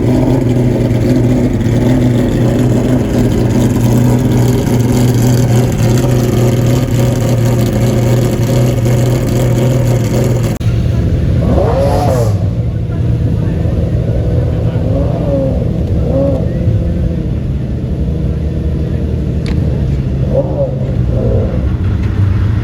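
Several McLaren F1 sports cars accelerating on the road, a loud, continuous engine roar that later drops and leaves rising and falling revs from passing cars, with people talking over it.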